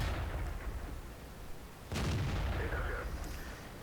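Tank cannon fire in a tank video game, one heavy boom with a rumbling tail over a constant engine and battle drone.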